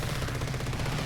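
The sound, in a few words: machine gun fire from a plane in the video game War Thunder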